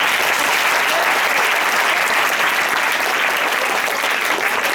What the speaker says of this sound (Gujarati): આવી હૃદયસ્પર્શી વાણી માટે પણ જોરદાર તાળીઓ થઈ જાય.